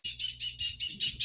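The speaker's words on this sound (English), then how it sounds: "Oh, my bird is quite upset." A pet bird squawks loudly and harshly seven times in quick succession, close to the microphone.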